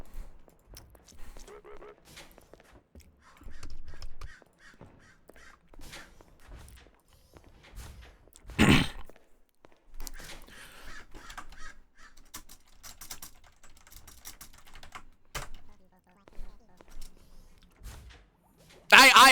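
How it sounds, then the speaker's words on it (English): A crow caws a few times at a distance, short harsh calls scattered among keyboard typing and intermittent talk during a game stream. "I also hear the crow."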